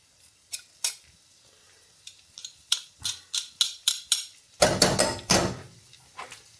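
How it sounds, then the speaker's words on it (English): Garlic cloves drop into a hot pan while cooking Tuscan butter shrimp: scattered light clicks and taps of utensils, then a loud, close burst of hissing sizzle that fades back to occasional clatter, with no talk. "so that's our garlic cloves going in"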